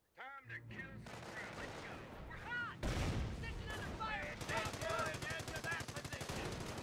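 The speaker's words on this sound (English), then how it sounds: "That's MG. Light MG." A light machine gun in the Company of Heroes war game rattles in rapid sustained bursts over steady battle ambience, the chatter growing denser and continuous in the latter half, with someone talking over it.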